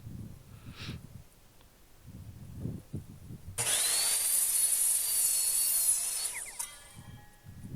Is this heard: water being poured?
no